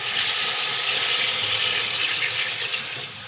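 Roughly one and a half kilos of water pours into a cooking pot for chicken haleem, a steady close gushing splash that tapers off at the end.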